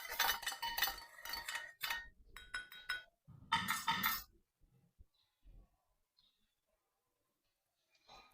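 Fried tomatoes, green chillies and coriander pounded for chutney, giving a quick run of close, clattering, clinking strikes for about four seconds, then scattered softer knocks and near silence.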